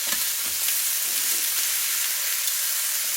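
Pork ribs sear in a hot pan, giving off a loud, continuous hissing sizzle with a few soft low bumps near the start, close by and uninterrupted.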